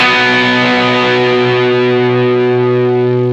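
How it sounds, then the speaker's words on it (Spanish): A distorted electric guitar chord rings loud and thick, sustaining for several seconds with a gradual decay, played alone. "y al aplicarle una distorsión sale de esta manera."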